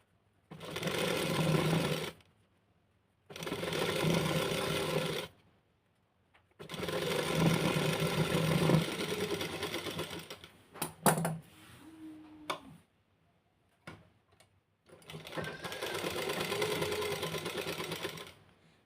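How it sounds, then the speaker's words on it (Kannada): An electric sewing machine stitches blouse fabric in several loud bursts of rapid, rhythmic clatter, each lasting a second or two with pauses between, and a few clicks and handling sounds in the gaps. "ಇಲ್ಲಿ ಮೇಲ್ಗಡೆ ಫ್ಯಾಬ್ರಿಕ್ ಮೇಲೆ ಒಂದು ಸ್ಟಿಚ್ನ ಹಾಕ್ತೀನಿ"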